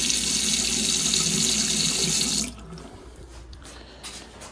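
Water gushes loudly from a faucet after the supply is turned back on during a Moen 1222 Posi-Temp cartridge replacement, a steady hissing stream that cuts off abruptly halfway through, leaving faint drips and small handling sounds.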